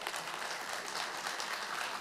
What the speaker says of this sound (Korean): 여러분 큰 박수 부탁합니다.